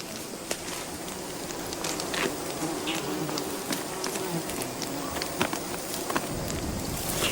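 A dense, steady buzz of many honeybees fills the air amid smoke, mixed with faint crackling and occasional sharp clicks.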